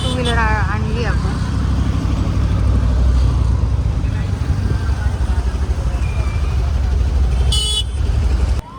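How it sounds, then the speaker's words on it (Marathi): Dense road traffic on a crowded route near Saswad during a palkhi procession at Dive Ghat, a steady roar of engines and motorbikes with a horn blast near the start and another later, under ongoing talk. "बघा ट्रॅफिक आपल्याला लागलेलं आहे आणि खूप गर्दी आहे"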